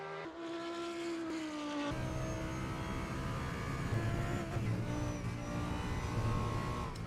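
A mid-engine race car's engine on a qualifying lap at Donington Park in a racing video game, a steady loud drone that drops in pitch after a gear change and then holds a rough, rumbling tone throughout.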